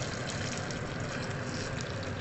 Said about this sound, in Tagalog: lagyan natin siya ng tubig na mainit